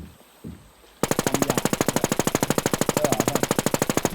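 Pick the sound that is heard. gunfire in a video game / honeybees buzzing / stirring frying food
gunfire in a video game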